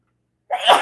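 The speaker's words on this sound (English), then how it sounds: "The sneezing has to stop." One sudden, close sneeze bursts out after a moment of silence and trails off in a short breathy tail, loud against an otherwise quiet room.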